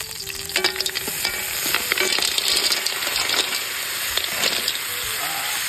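Snails (suso) fry in a pan, a steady sizzle with scraping stir strokes and sharp clinks of shells against the metal, close and continuous with no talking.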